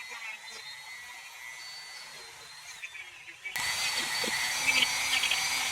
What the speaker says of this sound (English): Make those edges a little more crisp with the sander here.